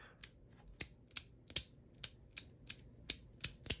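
A clicky 3D-printed fidget slider is pushed back and forth, giving about nine sharp, close plastic clicks at an uneven rhythm over near silence.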